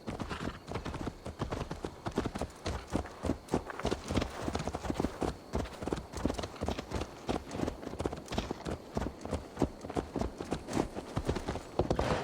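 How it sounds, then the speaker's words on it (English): Horse hooves clip-clop steadily and close in Assassin's Creed Valhalla, a brisk even rhythm that runs without a break, loud against faint game ambience. "Let's return the horse."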